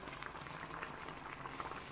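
Garden egg boiling in a nylon bag over a gas flame, a faint, steady bubbling of water that runs throughout without talk.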